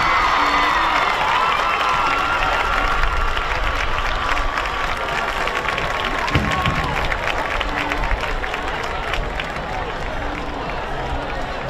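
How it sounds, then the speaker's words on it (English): A crowd at a high school homecoming football game applauds and cheers for the homecoming queen, a steady loud wash of clapping with whoops and shouts throughout. "how about a massive round of applause for all these winners and wonderful students on the field"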